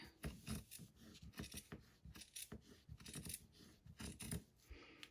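Scissors snip through ultrasuede fabric while trimming a bib edge, a quick series of close, crisp cuts in uneven bursts with short pauses between them.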